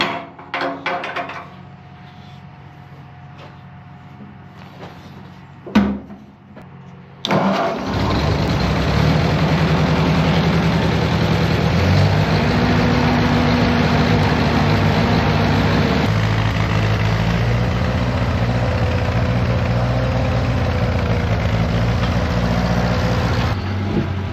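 After a few quiet clunks and cranking sounds, an engine starts and settles into a steady, loud, rumbling idle that continues throughout.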